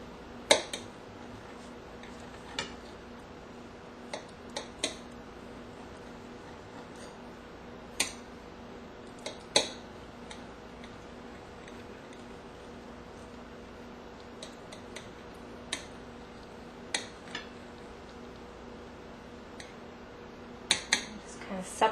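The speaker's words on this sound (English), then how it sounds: "and you just slice it into strips" A cooked egg omelette, lightly browned on the bottom, is sliced into strips with a knife, giving sharp, close taps on a cutting board at irregular intervals over a steady low kitchen hum, with no talking.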